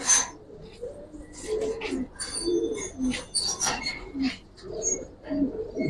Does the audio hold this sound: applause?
no